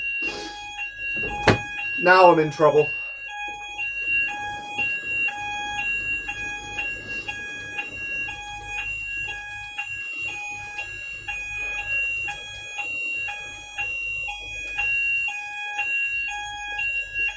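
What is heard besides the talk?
building fire alarm going off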